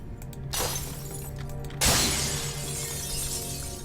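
Objects smash in the video game Dishonored 2: a crash near the start, then a louder, sharper glassy shatter that rings out and decays over steady background game ambience.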